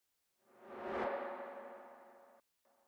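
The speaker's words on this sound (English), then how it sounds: "And then I have this ramp up right here sort of doing its thing." Pop-production ramp-up riser effect that swells from silence to a peak, holds a bright tonal shimmer while slowly fading, then cuts off abruptly before a short faint tail returns, with no voices.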